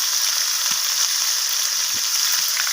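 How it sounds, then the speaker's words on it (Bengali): Cauliflower florets fry in hot oil with turmeric and salt, giving a constant close, bright sizzle with a few faint low knocks from the pan, no voices. "আর ফুলকপিগুলোকে আমি একটু লালচে করে ভেজে নেব।"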